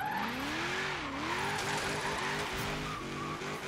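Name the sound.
Mustang drifting sideways in video game Forza Horizon 3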